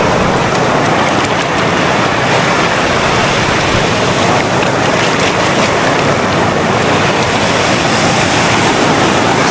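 Ocean surf churns and roars continuously at close range along with gusting wind, loud and steady, with no voices.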